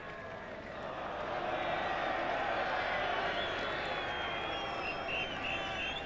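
Large packed cricket crowd at the Oval demonstrating during a 1981 England versus Australia Test match, a swelling roar of massed voices, shouts and scattered clapping that rises after the first second and holds steady, with whistles faintly audible.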